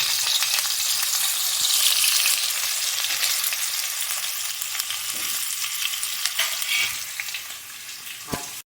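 Potato pieces fry in hot oil with cumin in a pan, producing a loud, bright, hissing sizzle with crackling pops that eases gradually before stopping abruptly. No one speaks.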